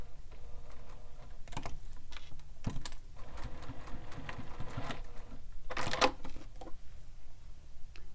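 A sewing machine top-stitches a zipper tab on a wallet, running in short rapid bursts of clattering stitches separated by pauses, close and fairly quiet.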